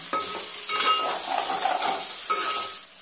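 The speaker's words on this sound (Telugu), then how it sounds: "ఒకసారి కలుపుదాం." Spoon stirring turmeric into a brinjal and potato curry in a hot pan, a steady close sizzle with soft scraping strokes that fades near the end.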